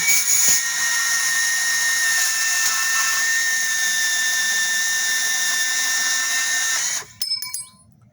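A Milwaukee 18-volt cordless band saw cuts steadily with a loud, continuous whine that stops abruptly near the end, followed by a few short rattles as it winds down.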